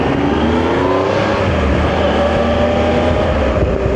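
A group of motorcycles pulls away together to a Thursday bike night at the Lowndes Arms, engines droning loudly and steadily with rising revs as the bikes ride off nearby.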